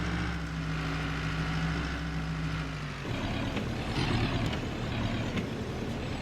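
A truck backing a trailer into place in Farming Simulator 22, its diesel engine rumbling low and steady before the tone shifts and grows rougher midway, with no talk over it.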